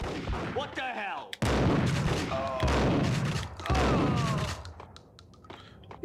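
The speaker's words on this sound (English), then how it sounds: "Yeah, that's how shotguns work." Shotgun blasts in the action video game Max Payne, several loud booming shots in quick succession, each with a heavy thud and ringing tail, trailing off into quieter in-game ambience.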